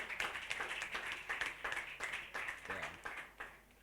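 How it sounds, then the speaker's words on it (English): Faint, rhythmic clapping from an audience at a school quiz competition, applauding the participating schools. It comes in pulsing bursts for under four seconds, sounding distant and low in level. "A round of applause for them."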